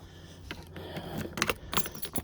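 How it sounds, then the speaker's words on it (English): Keys jangling and clinking in short bursts, close and moderately loud, while someone hunts for them beside locking hard-case motorcycle panniers. "Let me see if I can find my keys."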